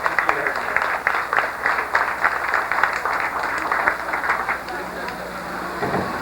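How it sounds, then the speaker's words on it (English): Audience applause on the Disney-MGM Studios backlot tour in 1989, a steady patter of many hands clapping at moderate distance, filling the whole stretch with slight swells, outdoors near a water tank. "let's give him a big round of applause"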